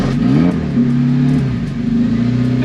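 A 360bhp rear-wheel-drive Mini with a turbocharged K20 engine revs in short bursts, the pitch climbing and falling twice over a rumbling idle, loud and close.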